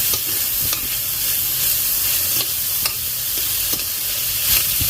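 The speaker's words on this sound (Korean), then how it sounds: "그럼 이제 재워놨던 고기를 이렇게 넣어요." Marinated meat fries in hot oil in a pan for kimchi fried rice, a loud, close, continuous sizzle with light scraping and clicks of a stirring utensil, no voices.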